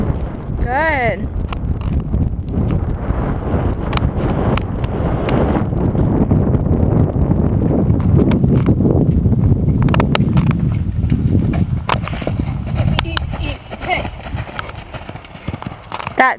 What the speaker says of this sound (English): He's turning into such a little jumper horse.